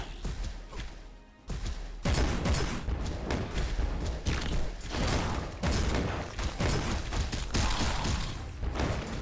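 Loud, close bursts of fire from a powerful close-range gun in the video game Darkest Depths, repeated heavy blasts with thuds and crashes in a dense, irregular rhythm after a brief quieter opening.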